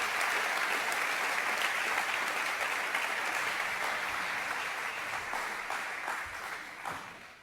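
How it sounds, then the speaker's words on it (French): A large event audience applauds the organizing team and association presidents with sustained, even clapping that runs the whole stretch without talk, slowly easing in intensity toward the end. "vous applaudissiez bien fort toute l'équipe qui a conçu cet événement matin, midi et soir depuis quelques mois"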